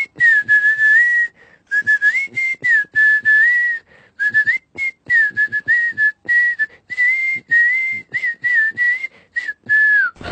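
A skilled whistler performs a melodic tune, the clear pitched whistle gliding and sustaining in phrases with short breaths between them, loud and close with no talking.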